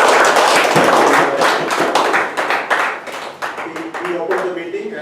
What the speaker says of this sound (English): Toastmaster Arun Manikandan He deserves a big round of applause